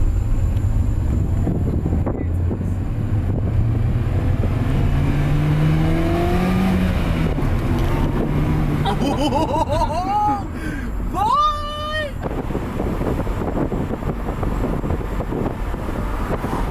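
A rebuilt Mini Cooper on its first test drive, heard from inside the cabin: a steady low engine rumble with wind and road noise throughout. Voices talk briefly partway through.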